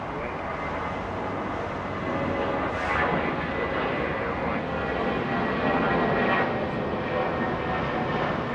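A heavy airliner landing at Los Angeles International Airport, a broad, loud roar of jet engines that swells and holds, heard from a distance outdoors.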